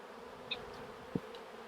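Honey bees at a hive give off a faint, low buzzing hum, with a couple of brief nearby wing passes over the quiet drone.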